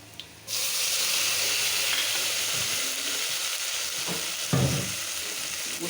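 Spices for a rohu fish head and mung dal muri ghonto sizzle loudly in a hot pan after being added, with a continuous frying hiss and occasional scraping stirs, no voices.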